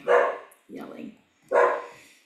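Dog barking indoors at home, three loud barks in quick succession with a short gap between them, close by and alone with no speech over them.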